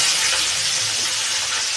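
Chopped onions fry in hot oil in a pan, giving a steady, close, even sizzle that fills the whole moment without pause.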